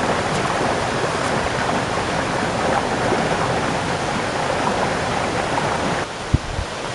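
A river in Galicia rushes steadily as broadband flowing water, close and continuous, with a couple of faint knocks near the end.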